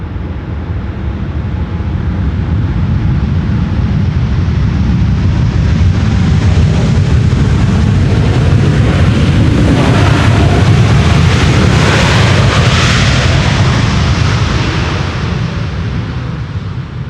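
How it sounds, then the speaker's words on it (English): A Norse Atlantic Boeing 787 Dreamliner roars with reverse thrust as it lands at Schiphol, a loud, sustained, wind-like rumble that swells through the middle and fades slightly at the end, with no talking. "leaving no doubt that this Dreamliner has reversers on board."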